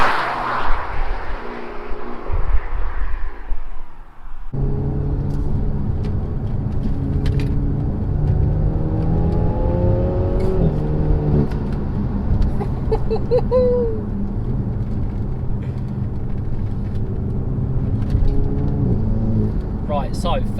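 A Renault Megane R on Goodyear F1 SuperSport tyres drives on B roads, its engine droning steadily with rising and falling pitch inside the cabin, after a rougher noisy start.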